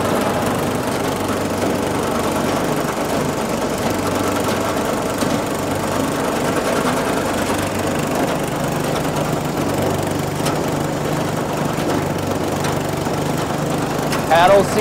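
Engine-driven firewood conveyor running steadily, a continuous mechanical drone with small-engine hum and rattling paddles, a steady even level throughout with a brief louder clatter near the end.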